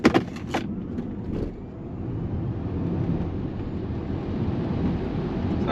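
Polestar 4 Performance electric car accelerating hard under launch control, a few clicks and then a rising rush of road and wind noise heard from inside the cabin.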